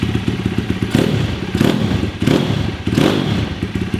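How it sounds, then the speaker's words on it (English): A 2023 SSR 160 TX pit bike engine revs up and down quickly in several sharp, snappy bursts, loud and close. "Revs up and down really quick, super snappy."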